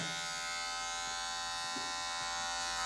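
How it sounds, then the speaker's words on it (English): Electric hair clippers trim along a hairline in a steady, close, continuous buzz that holds an even pitch throughout, with no speech over it. "so you have to do the whole of the hairline with this one pair of clippers"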